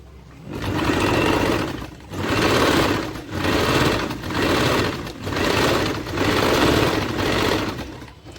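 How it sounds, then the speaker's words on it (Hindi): Sewing machine running a top stitch along a blouse belt seam, loud and close, in about seven even bursts of whirring stitching separated by short pauses, no talking. "इसको नीचे की तरफ करते हुए इस तरह से इसको एक टॉप स्टिच डालना है पहले।"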